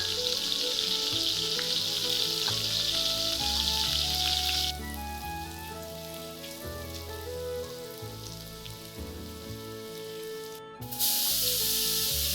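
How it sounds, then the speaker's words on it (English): Cumin seeds and green chili fry in hot oil for paneer bhurji, a close, steady crackle and spitting sizzle that quiets slightly partway through and flares up again at the end. "You add cumin seeds and green chili and cook it for a few seconds."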